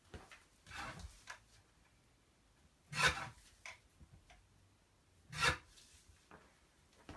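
Cardstock strip being trimmed for card making: soft rubbing and rasping cuts, two sharper louder strokes standing out among quieter scrapes, close up and without speech.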